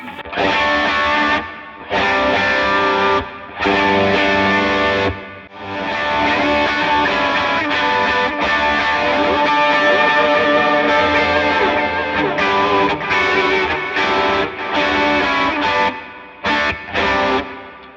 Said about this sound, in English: a large driven sound, meaning it has a bigger reverb